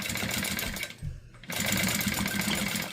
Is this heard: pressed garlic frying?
no